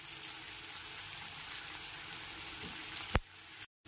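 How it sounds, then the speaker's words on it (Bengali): Chopped onions fry in hot oil over a low-to-medium gas flame, making a soft, continuous hissing sizzle, with one brief sharp click near the end before it falls silent. "গ্যাসের ফ্লেমটা লো টু মিডিয়ামে রেখে পেঁয়াজ কুচিগুলোকে ভেজে নিতে হবে।"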